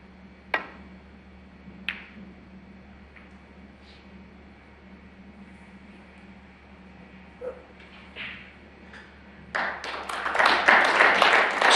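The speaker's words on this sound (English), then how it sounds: "Smattering of applause" A few isolated sharp clicks break the near-silence of a snooker match at the 2021 Champion of Champions. A smattering of applause then swells at the end and grows fuller and steadier.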